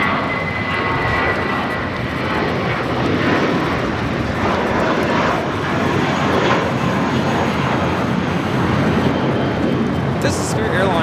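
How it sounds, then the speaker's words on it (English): A Spirit Airlines Airbus A320 thunders down the runway on takeoff for Louisville, a loud, continuous jet-engine roar with a high whine, holding steady throughout. "This is Spirit Airlines 2567 taking off to Louisville on the A320."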